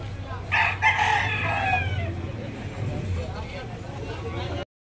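A stag rooster crows once, close and loud, at a gamefowl sale, with someone talking steadily over the surrounding clucks and crowd noise.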